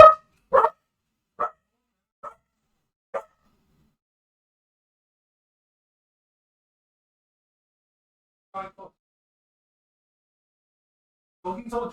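Dogs bark in short bursts at a passerby: a quick cluster of five loud, sharp barks at the start, a long silence, then two more bark bursts near the end, with no talking.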